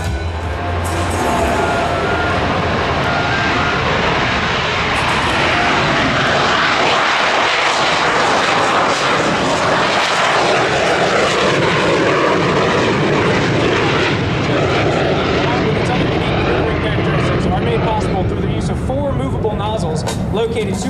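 A Boeing AV-8 Harrier jet with Rolls-Royce Pegasus engines roars loud and continuous at an air show, a steady broad jet rumble that swells and shifts as an announcer talks over it.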